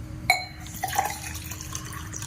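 Water poured into a drinking glass at home, opening with a bright clink of the glass, then a short gurgling fill and a few splashy drips, close and fairly quiet, with no voices.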